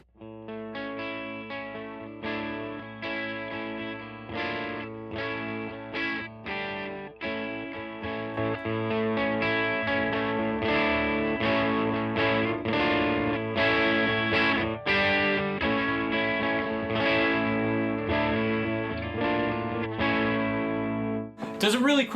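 Electric guitar through a JHS Colour Box V2 preamp pedal: chords and riffs ring out with a thick, slightly overdriven tone, played steadily for an extended stretch without any talking.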